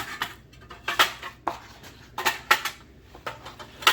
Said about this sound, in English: I just start putting my eggs down into my tray